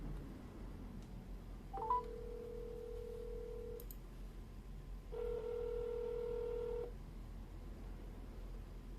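A telephone ringing through a computer calling app and a handset at once: two separate steady electronic ring tones, each lasting about two seconds with a pause between, faint against a quiet room hum.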